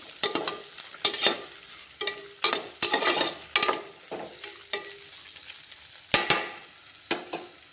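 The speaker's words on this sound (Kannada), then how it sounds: "ಟೊಮೆಟೊ ಹಾಕ್ಕೊಂಡು ಮಿಕ್ಸ್ ಮಾಡ್ಕೊಂಡಿದ್ದೀನಿ" Tomatoes frying and being stirred in a pan for vangibath, with repeated scraping strokes and crackling sizzle in irregular bursts, moderately close and alone.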